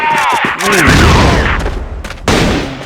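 Rapid gunfire and shot bursts from a first-person shooter match at a competitive esports event, dense and loud throughout, with a commentator's voice talking over the action.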